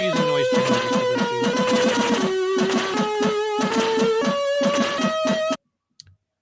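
Chiptune music plays from a SID chip core running on a Propeller board, mixing buzzy square-wave melody lines with clicking noise-channel percussion. The music is busy and fairly loud, then cuts off abruptly near the end.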